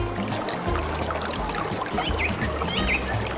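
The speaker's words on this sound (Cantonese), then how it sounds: "聽唔聽到水聲啊？" A flowing stream beside a village house in the Sha Tau Kok hills runs as a continuous, moderately quiet wash of trickling water, with faint bird chirps above it and no talk.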